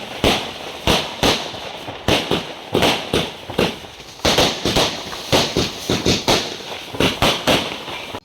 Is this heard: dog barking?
no